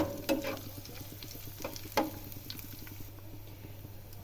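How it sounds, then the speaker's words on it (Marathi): Green chillies frying in oil in a pan for a radish-leaf vegetable dish, a soft steady sizzle with a few sharp spatula scrapes and clicks at intervals. "हिरवी मिरची ती सुद्धा चांगली व्यवस्थित परतून घ्यायची"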